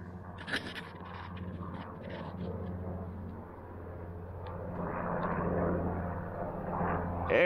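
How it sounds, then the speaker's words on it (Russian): A helicopter flies over the taiga, a low droning engine hum heard from a distance that swells gradually louder as it approaches, with no talking. "Вертолеты залетали."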